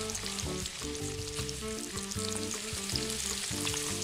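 A raw burger patty sizzles on a grill in the Roblox burger-cooking game, a steady frying hiss running continuously beneath looping, rhythmic background game music, with no voices.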